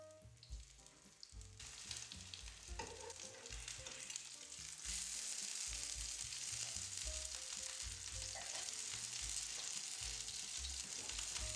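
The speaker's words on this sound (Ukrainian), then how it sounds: "буду рибу обмакувати в клярі і відразу ж смажити" Loud, steady sizzling of battered fish frying in hot oil in a pan, with a few clinks at the start before the sizzle swells and continues.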